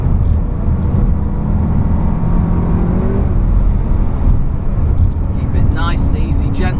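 Car on a wet lap of the Nürburgring Nordschleife, with a steady engine drone and road roar under a driver's talk, rising into a brief higher tone near the end.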